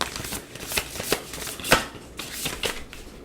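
Tarot cards being shuffled by hand, a rapid series of crisp riffling bursts and slaps in an irregular rhythm, close and fairly loud with no voice over them.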